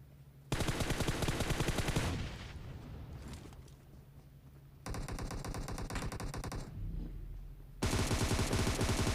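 Gunfire in a battle royale video game: loud, rapid automatic bursts in several long volleys separated by short gaps, with a few quieter single shots between them.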